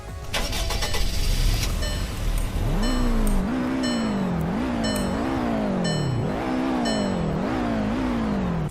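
A Roblox Greenville video game car engine starts and revs repeatedly, pitch climbing and dropping in a steady rhythm of surges, close and loud.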